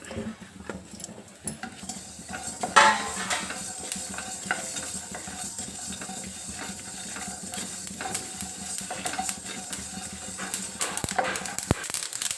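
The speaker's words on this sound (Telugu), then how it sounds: "ఇప్పుడు జీలకర్ర కూడా వేగింది కదా నువ్వులు వేసుకోవాలి" Cumin and sesame seeds dry roasting in a pan, with a steady soft crackle and scraping stir of a utensil running throughout, plus occasional sharper clinks and taps against the pan, close and moderately loud.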